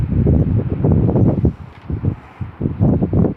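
Wind blows among high-rise buildings, buffeting the microphone in loud, gusty low-pitched surges that rise and fall over a few seconds with a short lull in the middle.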